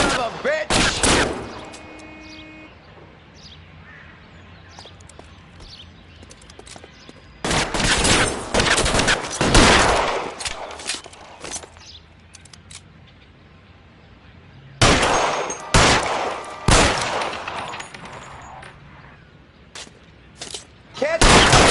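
Rapid gunfire in a shootout, loud bursts of overlapping shots in three clusters with quieter gaps of echoing shots and background noise between them.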